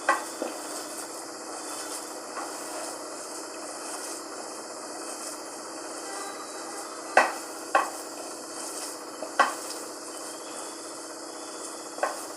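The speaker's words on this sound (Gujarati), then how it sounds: "અને આ બંનેને મિક્સ કરી દઈશું।" Poha and semolina stirred with salt and chopped coriander in a pan, a soft continuous scraping with a few sharp clinks of spoon against metal, close and fairly quiet, no talking.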